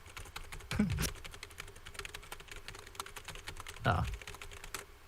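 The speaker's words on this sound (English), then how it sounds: "I'm typing on a keyboard." Rapid clicking keystrokes tap on a computer keyboard throughout, with a couple of louder thumps from the desk, while faint voices murmur in the background.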